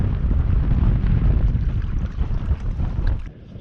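Strong wind buffeting across an open still-water fishery in the UK, a loud continuous low roar and rumble that gusts and eases, then drops away sharply in the final moment.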